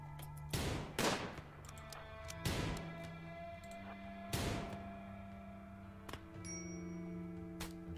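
Sharp gunshots from a RimWorld colony battle ring out in a loose irregular pattern, five or six separate cracks spaced a second or more apart over a steady background music drone, with faint chiming tones between.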